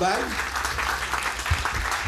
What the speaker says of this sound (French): Je vais demander un bel applaudissement